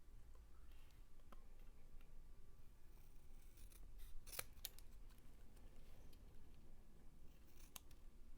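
Scissors snip through card paper in a paper-crafting session, giving repeated short crisp cuts, with a few sharper close snips near the middle and the end over a quiet room background.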